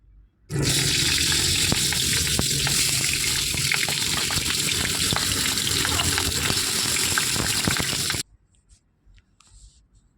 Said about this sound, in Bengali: কড়াইতে সামান্য পরিমাণ তেল অ্যাড করে নিয়েছি, দিয়ে আমি পাতুরিগুলো এক একে ছেড়ে দেব।